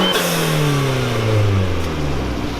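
A lowered Jeep Renegade fitted with coilovers revs its engine up and then lets it fall, a steady mid-pitched tone that drops gradually across a few seconds, loud and close with no talking.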